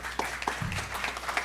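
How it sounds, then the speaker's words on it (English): Audience applause at a federal election candidates event in Surrey and White Rock, a moderate, fairly sparse patter of clapping hands with a few sharper individual claps and a brief low murmur partway through. "Let's give them a round of applause."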